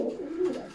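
Close, soft cooing from an Armenian pigeon, a short low rolling call that swells slightly and fades, heard alone.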